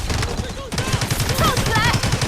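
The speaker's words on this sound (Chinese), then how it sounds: "坐标区域请求火炮支援。 收到，炮击即将抵达。" Artillery strike and gunfire in the mobile shooter Delta Force Mobile, a loud continuous barrage of blasts and rapid shots that swells after a brief dip, with radio-style voices over it.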